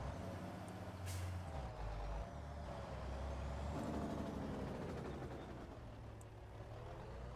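A Volvo truck in a truck simulator video game drives along with a steady low engine drone and road rumble, broken by a sharp hiss of air brakes near the start, with no talk.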